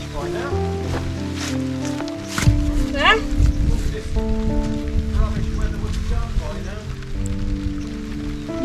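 Rain patters steadily on surfaces at a home building site, a dense hiss throughout, while people talk over it and other tonal sounds come and go.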